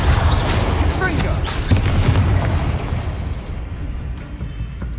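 A Confringo fire spell explodes in the Hogwarts Legacy video game with a loud, sustained booming roar that rumbles heavily and then slowly tapers off.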